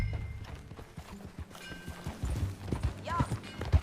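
A horse's hooves clip-clop in Red Dead Redemption 2, irregular dull thuds that grow more frequent toward the end, heard under a game soundscape with a brief whinny-like tone.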